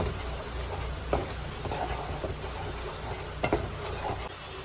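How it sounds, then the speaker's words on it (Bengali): A spoon stirs cashew paste into a jackfruit curry in a pan, giving soft scraping strokes and light bubbling over low, steady background noise. "দু চামচ কাজু বাটা পেস্ট ভালো করে মিশিয়ে নেব"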